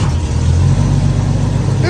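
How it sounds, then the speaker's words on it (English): A Jeep ZJ engine, with a loud exhaust leak, runs close by after starting, giving a deep, steady rumble with a slight rise toward the end. "let's fire this thing up and take her for a test drive"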